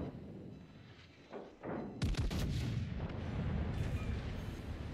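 Ship guns fire in a naval battle in World of Warships Legends: after a quieter rumbling stretch, a loud booming salvo hits, followed by a sustained roar of explosions and gunfire.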